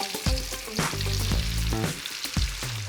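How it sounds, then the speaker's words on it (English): Chicken deep-fries in hot oil at about 180 degrees, a steady, close sizzle and crackle with irregular popping bursts and no talking. "So we'll fry the chicken."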